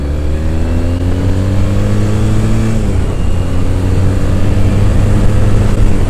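A Triumph Thruxton motorcycle accelerates hard up a hill, its engine loud and close, with climbing revs, a brief gear change and then rising again.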